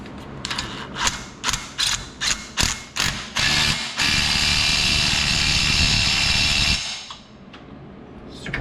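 A ratchet tightens the 16mm main shaft nut on a John Deere E100 series lawn tractor. It gives a series of close, loud clicking bursts, then one long continuous ratcheting run that stops abruptly.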